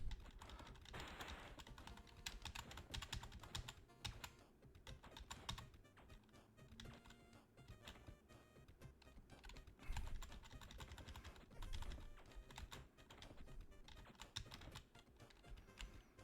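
Rapid, irregular clatter of a computer keyboard being typed and mashed during a Gravity Falls game, the keystrokes near and continuous for the whole stretch with occasional louder bursts.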